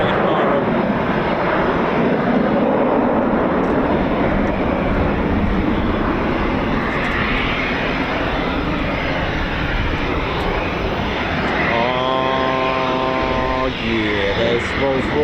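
An F-35B jet with its Rolls-Royce engine roars loudly and continuously during arrivals at RAF Fairford, with a rising whine near the end; voices talk over the engine noise.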